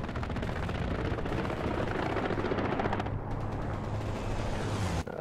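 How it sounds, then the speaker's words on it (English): A strafing-run air strike in the World War II shooter Hell Let Loose: a continuous loud roar of rapid machine-gun fire and aircraft engine, dense and close, running unbroken for several seconds before cutting off abruptly. "strafing run coming in"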